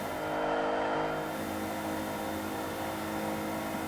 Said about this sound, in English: If I can do a burnout on this thing